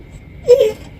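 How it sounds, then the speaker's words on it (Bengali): A small child cries out once in a short, close whimpering wail that rises and fades within about a second, with quiet background before and after. "ওই এখনো পর্যন্ত কান্না করতেছে"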